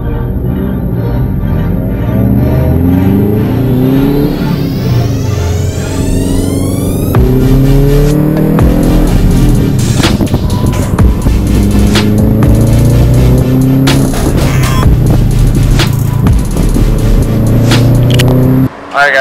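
Subaru Legacy GT lapping a race track, heard from inside the car: the engine revs hard through repeated rising gear pulls and shifts, loud and close, with continuous road and wind roar.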